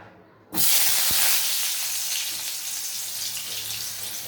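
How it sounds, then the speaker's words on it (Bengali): Potatoes tipped into hot mustard oil in a wok burst into a sudden loud sizzle after a brief quiet, then settle into a steady bright hiss of frying with one soft clunk. "তো এবার আলুগুলো ফার্স্টে কড়াইতে দিতে থাকি"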